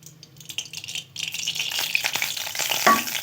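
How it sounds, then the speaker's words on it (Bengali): Black cumin seeds hit hot mustard oil in a kadai and burst into a loud, crackling sizzle that builds after a quieter start, with scattered pops and the clink of a utensil over continuous frying hiss. "ওই তেলেতে ফড়ন দিয়ে দেবো কালো জিরে"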